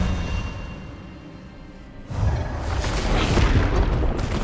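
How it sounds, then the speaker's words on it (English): An Expelliarmus disarming spell goes off in Hogwarts Legacy. A quiet stretch gives way to a sudden booming burst with a rushing, crackling tail that stays loud to the end. "Expelliarmus!"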